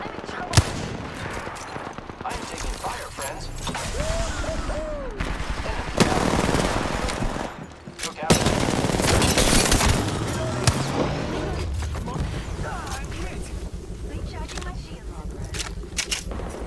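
Gunfire in the video game Apex Legends, with dense, loud automatic bursts and overlapping shots running almost continuously and voices mixed in.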